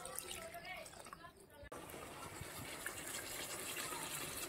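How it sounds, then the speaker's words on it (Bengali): Water poured into a pan of chicken kosha as it cooks, a steady gushing fill that runs close and fairly loud across the whole stretch, with a brief break partway through. "এইবার পরিমাণ মতন জল দিয়ে দিচ্ছি।"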